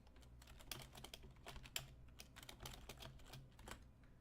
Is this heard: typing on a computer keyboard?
yes